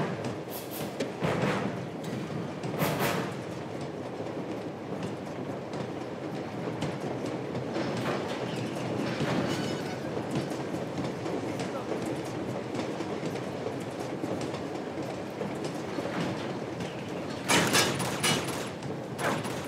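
A moving train rumbles steadily in the Uncharted action game, with a dense, loud clatter running throughout and bursts of gunfire-like crackle near the start and end.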